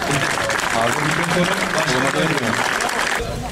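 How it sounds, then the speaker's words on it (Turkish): Audience clapping fills a hall at a celebration for a women's volleyball championship team, loud and continuous for several seconds with voices mixed in beneath it before it drops away near the end. "Alkışlarınızla"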